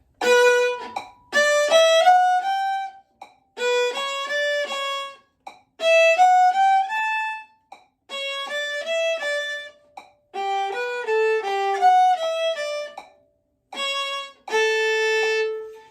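A viola plays short melodic phrases separated by clear silent gaps between shifts, each phrase sliding between pitches, close and alone.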